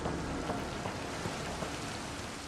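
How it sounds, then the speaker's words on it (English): Rain pours in the video game Mass Effect: Andromeda, a dense, even hiss of drops striking surfaces that holds steady throughout with no voices. "It's raining. How is it raining?"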